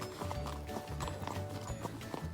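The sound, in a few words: horse walking, hooves clip-clopping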